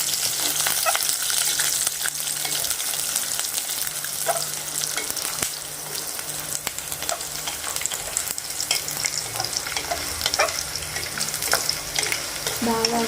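Garlic and peanuts fry lightly in a pan, producing a continuous loud hiss and crackle, with intermittent scraping as they are stirred and mixed, close up and without voices.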